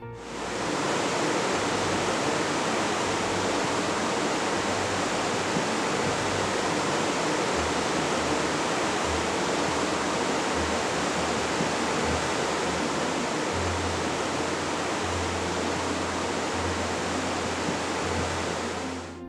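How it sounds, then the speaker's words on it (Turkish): Tortum Waterfall near Erzurum, water plunging 48 metres, roars as a dense, continuous wash of broadband rushing noise, loud and unbroken throughout, with a faint low tone underneath. "48 metre yüksekten dökülen sular da Tortum Şelalesini ortaya çıkarmış"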